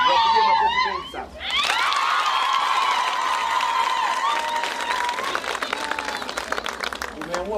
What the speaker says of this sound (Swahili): Wapigie makofi mengi sana.